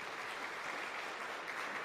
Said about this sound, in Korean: 우리와 함께 하신 하나님께 감사와 찬양의 박수를 드립시다